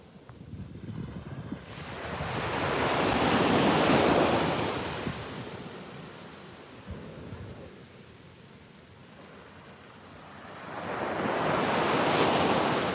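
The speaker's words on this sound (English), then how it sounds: "Just the long, slow walk down the beach." Ocean waves and wind on the beach at Playa Conchal, with broad surf roars swelling and fading in two long surges over steady wind buffeting the microphone and no voices.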